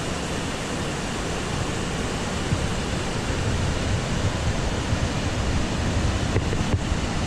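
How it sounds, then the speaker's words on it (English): Punchbowl Falls, a waterfall pouring into a basalt canyon in the Columbia River Gorge, makes a steady, loud, broad roar of rushing water that holds without pause throughout. "over here is Punchbowl Falls"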